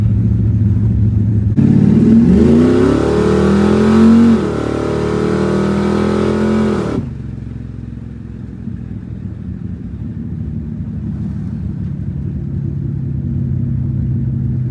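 A 1974 Camaro fitted with a 1990 Corvette engine revs loudly up close, a rising and falling rumble for several seconds that drops back to a steady deep idle.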